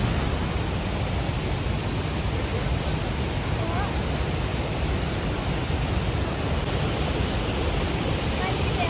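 Ripple waterfalls in Munnar give a loud, steady roar of falling water that holds constant without a break throughout, close and dense, like broadband rushing noise.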